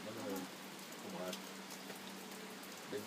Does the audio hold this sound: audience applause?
no